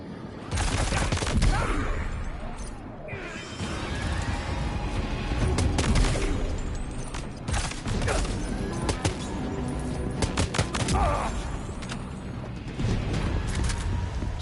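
Game gunfire in Death Stranding 2: repeated sharp shots from a semi-automatic gun scattered through a busy combat mix, mechanical clatter and creaks in between, loud and near throughout.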